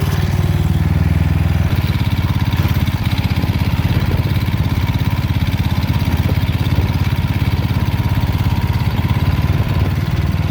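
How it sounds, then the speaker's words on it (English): A small gas engine pushes a bike trailer along an open highway, with a squealing drive belt. A loud, steady, buzzing engine drone runs close and unbroken throughout, mixed with road and wind rumble. "I better hurry, my belt is squealing."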